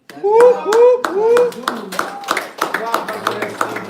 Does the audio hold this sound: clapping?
yes